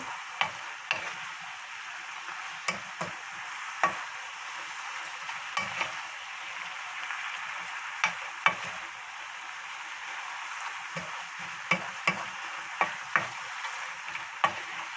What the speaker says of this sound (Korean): 열심히 열심히 볶아주면 국물이 어느 정도 좀 졸아들 때까지 이렇게 볶아주면은